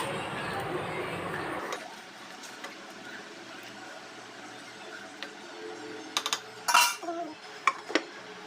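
Boiled meat is poured into a salty curry in a pot and stirred, with a pouring rush followed by quieter scraping and sharp metallic clinks of a spoon against the pot, while a person talks.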